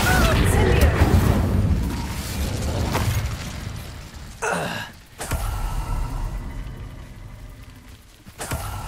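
Fire spell Incendio cast in the video game Hogwarts Legacy, a loud whooshing burst amid dense game noise, with breathy gasps and a sharp pop breaking through midway.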